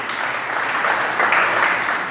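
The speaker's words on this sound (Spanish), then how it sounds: "Un aplauso a Jesús otra vez." A congregation applauds during a Spanish-language church sermon, a short burst of dense clapping from many hands that swells slightly midway, fairly loud and unbroken by speech.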